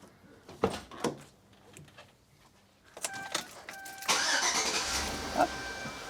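A Chevrolet Tahoe cranks and starts after a battery upgrade: a few clunks and clicks come first, then a brief starter whir, and the engine catches and settles into a steady, fairly loud idle.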